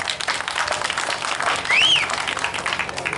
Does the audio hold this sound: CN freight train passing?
no